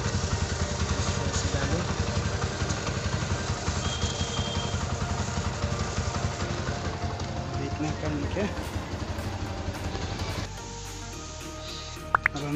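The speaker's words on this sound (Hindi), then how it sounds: "तो स्टार्ट करते हैं इग्निशन। इसको डालते हैं गियर में" A TVS Apache RTR 160 motorcycle idles in gear with a steady, close mid-pitched engine putter that fades near the end. Someone talks over it.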